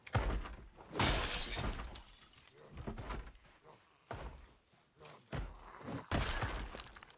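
Window glass shatters in the zombie survival video game Project Zomboid, several sharp crashing bursts with thuds between them, fairly close and loud.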